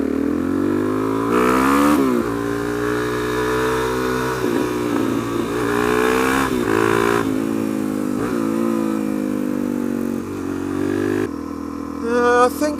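A motorcycle engine accelerates hard through the gears, its rising harmonic revs loud and close throughout, dipping briefly at shifts before pulling away strongly.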